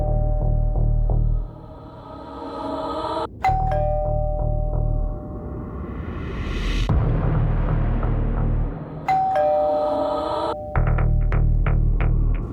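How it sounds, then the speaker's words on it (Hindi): A doorbell chimes twice, each ring a bright two-tone ding-dong with a lingering tone, over a low background hum and rumble. "बस डोरबेल बजी।"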